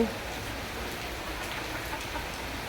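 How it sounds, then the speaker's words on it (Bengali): Heavy rain falling outside, a faint steady hiss of drops on surfaces lasting throughout, with no other sounds standing out. "বাইরে বৃষ্টি হচ্ছে অনেক বৃষ্টি"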